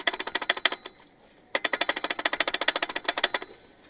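A turbocharged Honda Civic engine runs with its accessory belt removed, giving a rapid, regular mechanical ticking and clattering at close range, with a brief drop in the pulses around the middle before the steady rhythm resumes.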